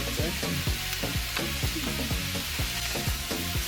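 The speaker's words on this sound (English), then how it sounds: "Now we're gonna add all of the potatoes and some Chinese seasoning salt" Potatoes seasoned with Chinese seasoning salt frying in a pan for vegan Hong Kong potatoes: a dense, continuous loud sizzle with repeated quick scrapes and tossing strokes in a steady rhythm, close up, without talk.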